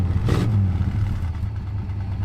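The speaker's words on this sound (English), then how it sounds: "Listen to that exhaust." An old, long-abandoned Chrysler car with factory dual exhaust rumbles at idle close by, a deep steady low throb with a brief blip near the start and no talking.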